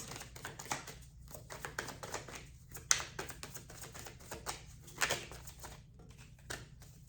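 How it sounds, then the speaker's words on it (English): Tarot cards spill from a deck during shuffling, making quick papery flutters and soft clustered slaps, faint and close, in irregular bursts. "Too many cards fell out."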